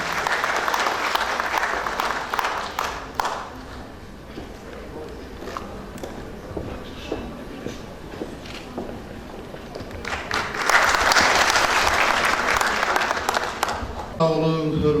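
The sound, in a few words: audience applauding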